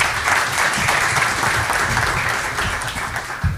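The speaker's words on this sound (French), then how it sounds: "je vais vous demander de les applaudir" An audience applauds the speakers of a panel at an investor day, dense continuous clapping from many hands filling the room at an even, fairly loud level.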